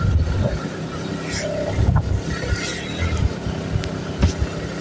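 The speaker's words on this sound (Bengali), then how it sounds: "বাইকটা ড্রাইভ করতেছি" A motorbike is ridden with a steady engine drone and rushing wind noise. It sounds close and fairly loud, with small bumps and clatters and no talking.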